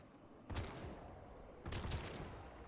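Gunfire in the video game Warframe, shooting enemies during Echoes of Zariman missions: two loud bursts of rapid shots, the first at half a second and the second past a second and a half, with no talk.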